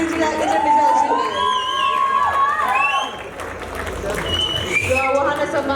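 Award ceremony audience cheering and applauding for a popular singer, a loud crowd roar with shouts and clapping, while a voice speaks over the noise and music plays.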